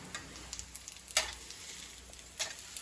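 Eggs sizzling in a hot frying pan on a home stovetop, a steady close hiss and crackle with a few sharper spits and pops scattered through it.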